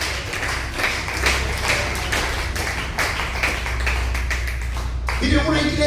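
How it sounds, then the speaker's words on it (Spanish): A church congregation applauds in rhythmic, repeated claps during a sermon, the clapping moderately loud and mixed with voices and low organ-like tones underneath. "Aplauda en nombre de Jesús"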